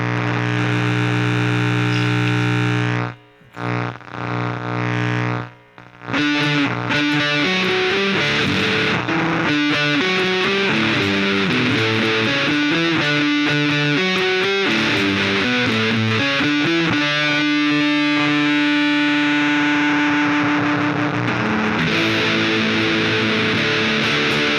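Twelve-string guitar played as single-note lines through heavy fuzz distortion, the instrument's own octave strings doubling each note, loud and sustained with brief gaps near the start.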